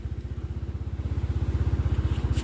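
A motorcycle engine runs during a night ride on a mountain road in the Samanlı Mountains, a steady rapid low thumping with even pulses that grows slightly louder.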